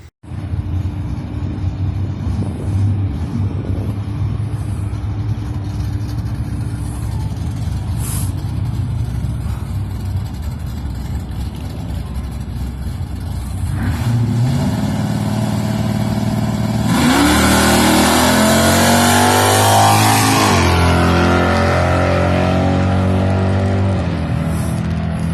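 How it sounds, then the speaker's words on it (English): A 1980 Trans Am drag car on motor accelerates hard down the strip at low density altitude, its loud engine roar building through rising gear-change sweeps and holding near and dominant throughout, with no talk. "And here's Christopher's motor pass, and this is his best motor pass ever"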